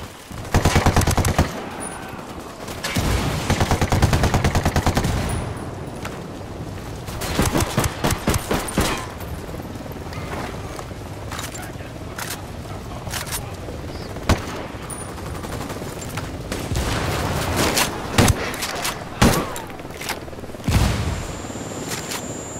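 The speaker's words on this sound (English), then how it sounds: "I'm opening fire on these shitheads" Gunfire in Ghost Recon Wildlands comes in rapid automatic bursts and single cracks, loud and close, separated by brief pauses, with distant shots and faint voices in between.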